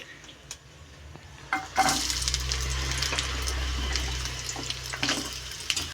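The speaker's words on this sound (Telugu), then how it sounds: "మనం అల్లం అనేది ఫ్రై చేసుకోవాలి కాబట్టి ఇప్పుడైతే అల్లం అనేది వేసుకోవాలి" Ginger dropped into a tablespoon of hot oil for a sweet ginger pickle starts a steady, close sizzle that swells after a sharp entry and holds with crackling spits to the end.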